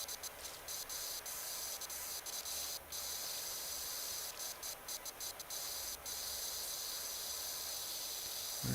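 A pressure washer sprays continuously in the video game PowerWash Simulator. It makes a steady, loud broadband hiss with brief ticking interruptions and no talk.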